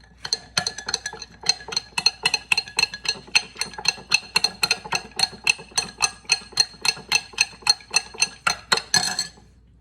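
A spoon clinks rhythmically against a glass while stirring a cornstarch and distilled water solution, a steady series of bright, close ticks repeating roughly every third of a second.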